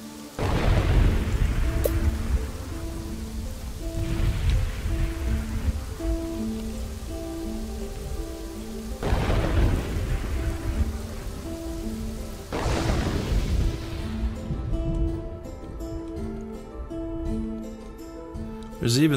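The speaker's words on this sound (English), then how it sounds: "There's even storms in this game." Steady rain pours through a Kingdoms and Castles game scene, with loud thunder cracks breaking in at intervals over it and background game music.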